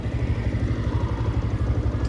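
TVS Raider 125 disc variant motorcycle engine in first gear, a close, steady pulsing thrum with a rapid regular exhaust beat and mechanical clatter, no talk over it.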